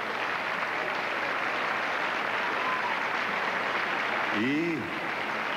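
An audience applauds at the 1990 Miss Hispanidad International pageant, a continuous roar of clapping from a large crowd, with a single voice briefly rising near the end.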